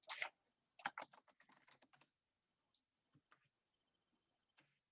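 Computer keyboard typing in bursts of quick clicks, dense at first then thinning to scattered taps, close and fairly quiet with no talking.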